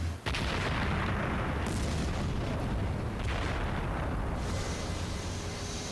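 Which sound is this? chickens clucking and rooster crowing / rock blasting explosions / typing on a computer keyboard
rock blasting explosions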